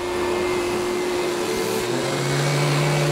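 A wood planer surfaces the second face of a freshly jointed board, giving a loud, steady machine roar with a constant high whine that holds unbroken throughout, with no speech.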